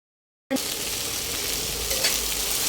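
A masala filling of onion, tomato, chili, garlic and cashew bursts into a loud, continuous sizzle after a moment of silence, roasting in a pan with a brief scrape near the end.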